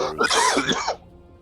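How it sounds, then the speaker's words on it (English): A person coughs hard, a loud, rough burst of harsh coughing and throat clearing close to the mic that cuts off abruptly into near silence. "You coughed so hard you crashed."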